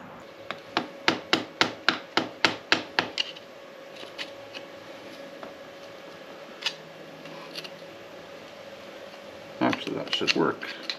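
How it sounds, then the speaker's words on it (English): Metallic taps on a locking washer against a motorcycle front sprocket, Yamaha XT250, being bent out: a quick run of about ten sharp knocks, then scattered light clinks and scraping near the end. "There's a locking washer on here that you have to bend out."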